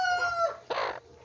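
A single rooster on a South Korean chicken farm gives a short crow that is cut off by a sharp, loud squawk, heard close up with no talking.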